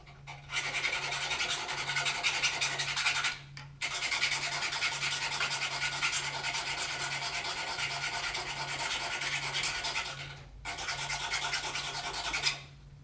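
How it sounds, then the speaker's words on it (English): Steady abrasive rubbing of a PVC blowgun dart being sharpened, a continuous scraping rasp that runs for several seconds at a time with two short pauses, close and fairly loud with a low hum beneath. "Sharpening. I'm trying to sharpen this one too."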